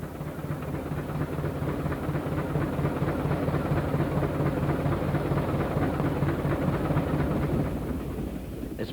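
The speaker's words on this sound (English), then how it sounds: "The new engine, by contrast, has a very different sound, and it's difficult to believe that it's a steam loco at all." A new rack steam locomotive on the Mid-Hants Railway runs steadily with a continuous, dense mechanical roar and a rapid rhythmic chatter. The sound is loud and close and holds for several seconds, with no voices.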